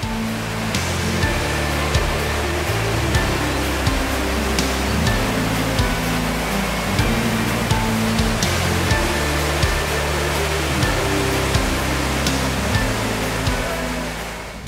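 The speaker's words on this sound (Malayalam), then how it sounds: "ഏത് വേനലിലും ആറ്റുകാട് വെള്ളച്ചാട്ടത്തിൽ ഇത്രയും വെള്ളമുണ്ടാവും" Attukad waterfall in Munnar pours in a constant, full roar of falling water, close and loud, with a low steady tonal layer running underneath and faint periodic ticks.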